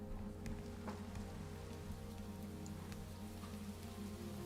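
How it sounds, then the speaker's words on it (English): Rain falling in a lush biome in the video game Minecraft, a soft steady patter with scattered drop ticks over a low ambient hum, fairly quiet, no talking. "it's raining in the lush"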